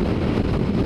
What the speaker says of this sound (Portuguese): Hoje tá chato é o vento tá foda